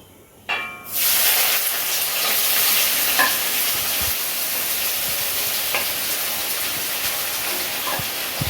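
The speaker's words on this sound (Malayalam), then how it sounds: "ഇനി നമുക്കിതിലേക്ക് സവാള ഇട്ട് കൊടുക്കാം കേട്ടോ" Onions tossed into hot oil with ground spices for a mutton biryani, erupting into a loud, close, continuous sizzle that starts abruptly and holds steady, with faint stirring taps underneath.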